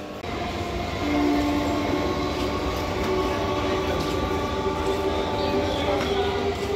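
A late-running train pulls into a West Bengal railway station, its steady rumble and wheel noise continuing throughout, with a faint horn-like tone and a voice talking quietly under the sound.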